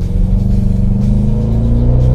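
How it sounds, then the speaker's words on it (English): A Hemi car engine with a tuned exhaust rumbles loudly and close by, holding a deep, steady idle-to-rev drone for a couple of seconds with a slight rise in pitch. "Got the tuned exhaust"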